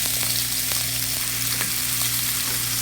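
Ground turkey frying in a hot pan, a dense continuous sizzle with faint ticks from stirring, close and steady with no talking.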